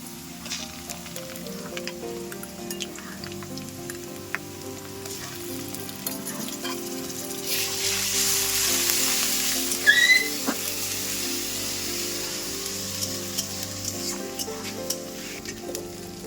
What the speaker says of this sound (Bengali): পেঁয়াজ ভাজাটা হয়ে গেছে এবার আদা রসুন বাটা দিয়ে দেবো